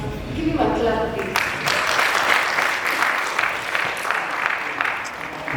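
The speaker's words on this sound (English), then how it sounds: "Give him a clap, please." Audience applause at a PyCon Uganda 2023 conference talk on defensive programming, a steady wash of clapping that begins after an opening stretch of tonal sound and continues evenly to the end.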